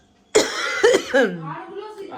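Indoors, a person suddenly coughs three times in quick succession, loud and close, then trails off into a softer throaty rasp.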